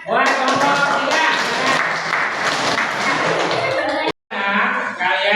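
A classroom of vocational high school students applauds a student group, dense sustained clapping close and loud for about four seconds, a brief break, then clapping resumes.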